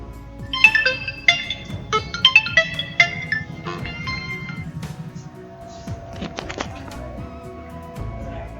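A ringtone plays through the repaired loudspeaker of an Oppo A78 5G phone, a short bright melodic tune of quick chiming notes, fairly quiet, over faint room noise.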